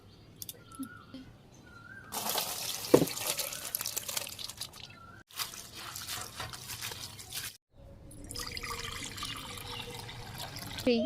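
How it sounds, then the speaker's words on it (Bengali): Cut fish pieces are washed by hand in water in a village kitchen, with close splashing and sloshing that comes in bursts with short pauses, plus a few faint drips. "এখন পরিষ্কার করে ধুয়ে নিব"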